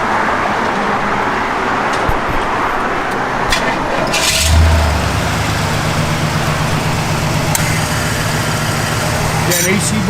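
A 1970 Pontiac Grand Prix engine cranks and fires at about four and a half seconds, then settles into a steady, fairly loud low idle, with broadband noise and voices around it.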